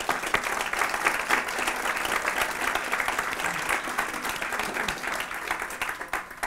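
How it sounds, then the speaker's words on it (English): Steady round of applause from the audience at a UN women's empowerment principles event, dense clapping filling the room at an even level for several seconds without talk. "So I'd like you to join me in giving a round of applause to this terrific team."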